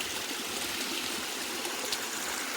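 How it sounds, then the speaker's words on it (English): A creek on a rural property flows steadily nearby with a continuous rushing, trickling wash of water and no voices. "I kind of like having a creek on the property like this."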